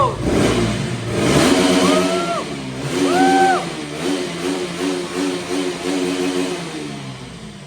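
A KTM RC motorcycle engine revs hard twice in quick succession, each time climbing steeply in pitch. It then settles into a loud, throbbing mid-rev pulse nearby.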